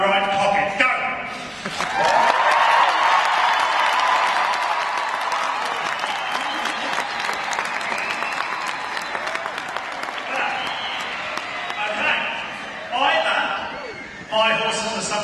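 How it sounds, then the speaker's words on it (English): Large arena audience at an indoor horse show at the Royal Winter Fair in Toronto clapping and cheering loudly for about fifteen seconds, a sustained dense roar of applause and shouts that swells and dips, with a voice briefly heard near the start. "if you can clap and cheer so loud that you frighten them"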